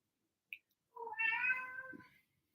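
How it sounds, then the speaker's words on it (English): A pet cat gives a single drawn-out meow, close and fairly loud, preceded by a tiny click, in an otherwise quiet room. "So for those who don't know, I have 2 cats, Dill and Pickles."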